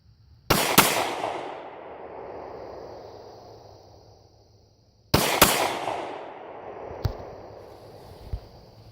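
Two sharp, loud gunshots from a black powder muzzle-loading gun spaced a few seconds apart, each followed by a long rolling echo that fades, with a couple of faint clicks and thumps after the second shot.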